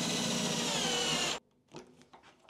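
A power driver whirs loudly for over a second as screws are driven into a DIY loft ladder hatch catch, then cuts off, followed by faint handling clicks and rustles close by.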